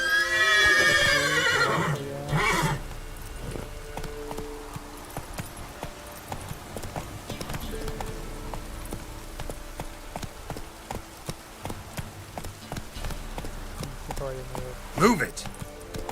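Horse hooves galloping in The Witcher, a steady clip-clop rhythm running throughout, with a whinny near the start and a burst near the end, plus a game voice over it.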